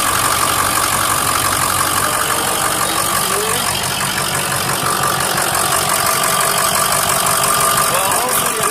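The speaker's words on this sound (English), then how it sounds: "Let's go back to the engine so you can hear how it sounds" A 2005 Ford F-350 Super Duty pickup truck engine idles steadily and close by, a constant low rumble with a faint mechanical hum running unchanged throughout.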